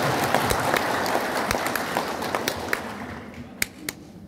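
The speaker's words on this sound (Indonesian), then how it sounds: "saya minta ada tepuk tangan untuk Pak Pendeta Tulus." An audience claps for a pastor, dense sustained applause that thins out toward the end, with a few sharp lone claps at the close.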